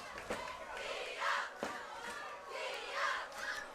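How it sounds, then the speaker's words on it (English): Crowd in the stands at a high school varsity football game, Skyline at Bellevue, chanting the D-up cheer: rhythmic, swelling group shouts rising and falling twice, with sharp hits between, heard from a distance. "I haven't seen that cheer before, the D-up cheer."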